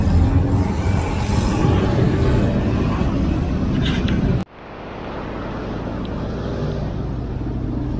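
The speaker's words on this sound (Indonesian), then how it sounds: "Arus lalu lintas lumayan ramai ya lur ya." Busy road traffic near Tlogomas bridge rumbles steadily close by, and a sharp cut partway through leaves a quieter, more distant traffic hum afterward.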